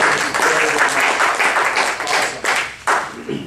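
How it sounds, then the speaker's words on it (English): A club audience claps and applauds at a Toastmasters-style meeting, a dense, loud burst of many hands lasting the whole stretch and easing slightly near the end, with a voice faintly under it. "So big round of applause to Jesse and Beatrice."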